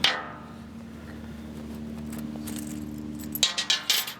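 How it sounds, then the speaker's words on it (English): A small set of keys jangles close by: a brief rattle at the start, a quieter stretch with a low hum, then a loud burst of metallic clinks and jingling at the end. "Minimum set of keys. That's the small set, not the large set."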